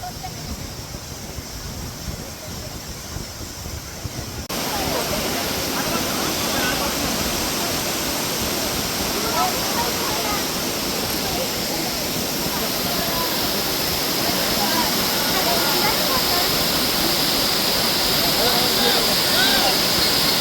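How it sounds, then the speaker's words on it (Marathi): A large waterfall at Malshej Ghat roars as a loud, broad, steady rush of water, swelling after the first few seconds and holding constant. "मोठा धबधबा आहे."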